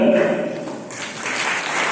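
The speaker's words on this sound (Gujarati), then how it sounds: "આપણે તાળી પાડી" Audience applause at an athletics medal ceremony for a village sports meet, a brief burst of clapping that rises after a voice speaks over a sound system.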